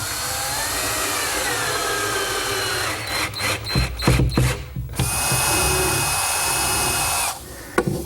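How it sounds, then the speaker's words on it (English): A power drill whirs steadily, then stutters in short bursts as screws with finish washers bite through plywood into a kitchen island panel frame, before spinning up again loud and close. "I slip the screw through the washer and then drive it in the hole"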